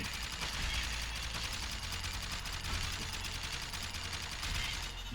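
Rapid continuous gunfire from the video game Jak and Daxter: The Lost Frontier on PSP, a dense crackling burst of shots over a steady game background, constant and fairly quiet throughout.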